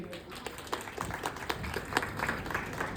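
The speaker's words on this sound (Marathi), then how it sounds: "जोरदार टाळ्या यांच्यासाठी." An audience bursts into applause, a dense patter of clapping hands that carries on steadily for the whole short stretch.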